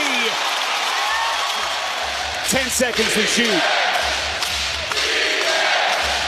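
A loud arena crowd at an NBA playoff game in Oklahoma City, Thunder vs Pelicans, roars and cheers continuously while a commentator talks over it. Sneaker squeaks and basketball bounces are mixed in.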